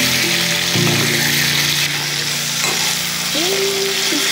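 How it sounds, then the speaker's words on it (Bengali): Lata fish paturi sizzles in oil in a pan as the lid comes off and the pieces are turned, a loud steady frying hiss with a few scraping and clinking sounds and no speech. "এবার ঢাকাটা উঠিয়ে মাছগুলো উলট পালট করে দেব।"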